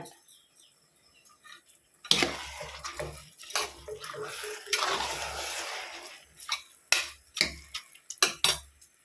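Water poured from a glass onto rice in a pot while making tomato rice, several splashing pours separated by short pauses, with clinks of the vessel, close and moderately loud.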